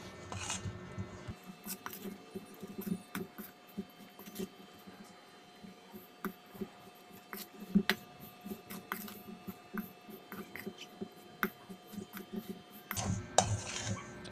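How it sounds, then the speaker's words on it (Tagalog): Okoy batter ingredients are stirred in a bowl, giving repeated soft scraping and clinking of utensil against the bowl, fairly close and steady, with a faint hum beneath. "After natin ilagay lahat ng ingredients niya ay halu-haluin natin siyang."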